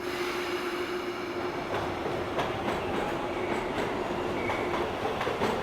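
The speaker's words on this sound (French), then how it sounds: "En route, et cette fois, on prend le métro." A Paris metro train rolls along underground, a steady loud rumble of wheels on rails with faint clicks and a persistent tonal whine, no voices.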